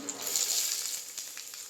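Onions, cumin, two bay leaves, cinnamon and green chillies fry in oil for a one-pot vegetable pulao, with a soft, steady sizzle and faint hiss at low volume.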